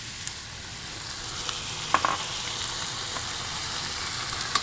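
Red wine poured into a hot pan with cooked-down tomato, sizzling and hissing steadily at moderate volume with a few faint scrapes and clinks.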